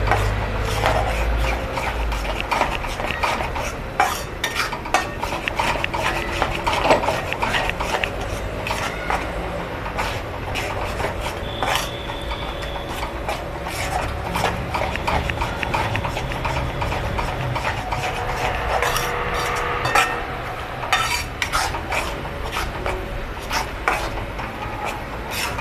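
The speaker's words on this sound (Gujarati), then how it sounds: "એકદમ હળવા હાથે આપણે હલાવતા રહેશું, જેથી કરીને લોટ નીચે દાજી ન જાય." Gram flour being stirred in hot ghee in a heavy-bottomed kadai for magas ladoo, a continuous scraping rub of spoon against pan bottom with frequent soft knocks, close and steady with no talking.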